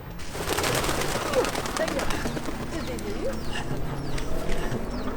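Pigeons coo in soft, rolling calls amid a busy outdoor soundscape in Malta of other bird chatter and scattered clicks.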